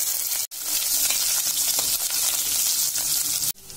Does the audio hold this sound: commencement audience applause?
no